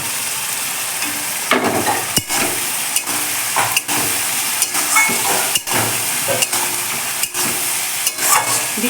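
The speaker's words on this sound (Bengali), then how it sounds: "মশলা কষে গেলে এবারে ডিমগুলো দিয়ে দেব।" Duck eggs added to spice masala frying in a pan, producing a loud, steady sizzle and hiss with repeated stirring scrapes and brief pops throughout, close up and without voices.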